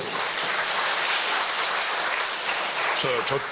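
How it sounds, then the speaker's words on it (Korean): A church congregation applauds in congratulation, a dense, continuous burst of many hands clapping that fills the room before a speaking voice cuts in near the end. "여러분 지금 여기는 있지 않지만 여러분 축하 박수 한번 보내주실래요?"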